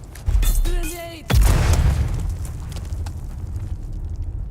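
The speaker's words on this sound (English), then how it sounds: "Grenade." A grenade in Dune Awakening goes off with a single loud, deep boom that rolls into a fading rumble, preceded by a brief sharper sound.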